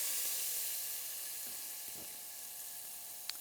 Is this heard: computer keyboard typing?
no